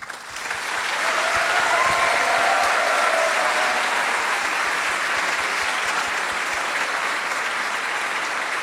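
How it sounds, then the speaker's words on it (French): Sustained applause from a church congregation at a Sunday morning worship service, dense steady clapping that swells in quickly and holds loud and even throughout. "on peut prolonger nos applaudissements aussi pour Claire"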